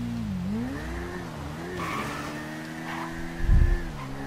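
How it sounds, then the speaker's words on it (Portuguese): A Suzuki Bandit motorcycle in the GTA V video game whines steadily, its engine pitch rising and dipping as it rides. A short, heavy thump lands near the end. "Caramba, essa moto corre demais"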